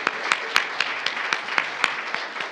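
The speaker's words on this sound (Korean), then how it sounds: "안정혜 성도님 다시 한번 박수 드리겠습니다." A church congregation applauds a member during a Sunday worship service, moderate clapping with distinct sharp hand claps standing out at an irregular rhythm above the softer spread of clapping.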